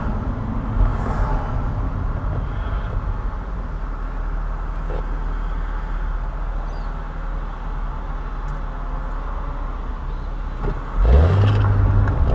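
A white Ford Focus drives past on a road, a steady broad engine and tyre rumble that swells briefly louder near the end of its pass, with no talk over it.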